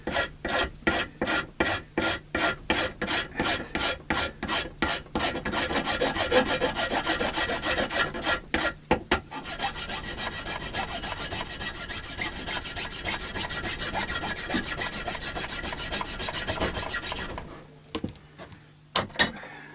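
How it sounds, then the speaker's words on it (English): A guitar nut, for an Indian Encore AristoCat Strat neck, rubbed back and forth on sandpaper: a loud, close rasping scrape repeated in a steady fast rhythm, then smoother continuous grinding strokes before trailing off. "It probably would work better being filed down on some sandpaper"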